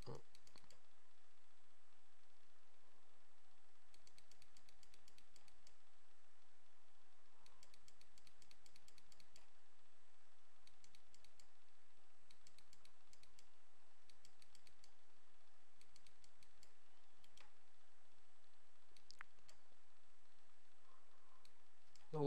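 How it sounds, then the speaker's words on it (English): A computer mouse clicks repeatedly during photo-editing work with a brush tool, producing faint, quick clusters of clicks in irregular bursts with pauses between them, close and quiet against a low background hiss. "I'm going to pick spots and just keep clicking."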